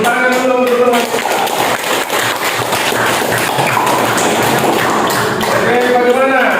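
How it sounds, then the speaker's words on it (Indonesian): A classroom of students claps for a classmate in a dense burst of applause lasting several seconds, with voices heard briefly at the start and end. "Tepuk tangan dulu untuk teman kita."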